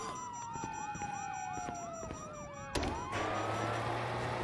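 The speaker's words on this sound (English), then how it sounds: "you hear that? Sirens!" Police sirens wail in the video game GTA 5 during the prologue heist, a fairly faint rising-and-falling yelp repeating in quick cycles, then a sharp burst and a broader wash of noise with a low steady hum.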